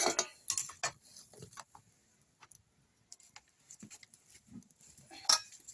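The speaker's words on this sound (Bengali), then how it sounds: "আবার কড়াটা বসিয়ে দিলাম" A wok set back onto the stove while cooking lau chingri, a bottle gourd and prawn dish: scattered close metallic clanks and scrapes, a busier clatter at first, quiet gaps in between, and a sharp clink near the end.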